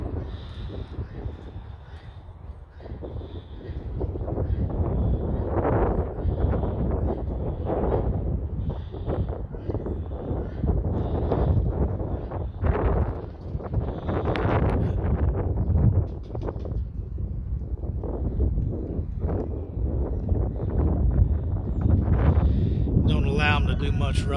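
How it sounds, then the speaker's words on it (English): Strong outdoor wind of about 15 miles per hour buffets the microphone in a steady roar with gusty surges throughout, while someone talks over it. "About 15-mile-an-hour wind."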